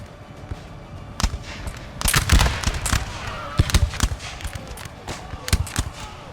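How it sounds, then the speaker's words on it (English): Musket volleys crack from windows in Napoleon Total War, a scattered run of sharp reports, some clustered and some single, over a low battlefield rumble, with the densest burst near the middle. "England's shooting out the windows."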